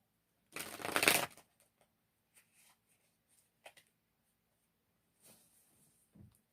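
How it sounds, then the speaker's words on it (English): Tarot cards are shuffled in one quick, crisp riffle, followed by a few soft scattered taps and rustles, close by in a quiet room. "So, one more shuffle."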